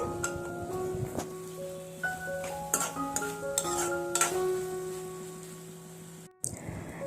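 Soft cooked tomato masala stirred in a pan, with scattered scrapes and clinks of a spoon against metal over background music, ending in a short pause and a final clatter.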